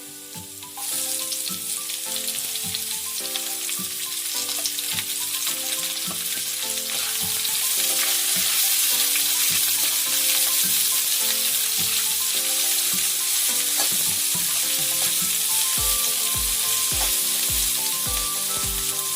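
Sliced onion drops into hot oil where garlic has turned golden, for a prawn and tapioca (konju kappa) dish; a loud, steady sizzle runs throughout, with tonal background music layered beneath it.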